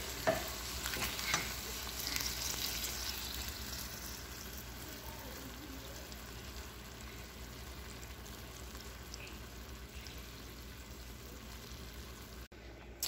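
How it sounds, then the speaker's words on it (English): Red beans with ham and sausage frying in a skillet, a steady soft sizzle with stirring scrapes through it, close and continuous, with no talking. "I'm going to take my beans out of the crock pot, and I'm going to put them into the skillet."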